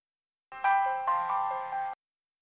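A mobile phone ringtone plays alone for about one and a half seconds, a bright tonal melody of short repeated notes, fairly close and clear, with no talk.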